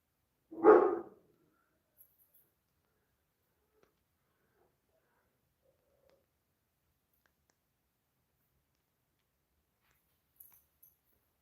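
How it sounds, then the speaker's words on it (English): One short, loud burst of barking from dogs close by near the start, then near silence with faint clicks. "the dogs are deciding to bark"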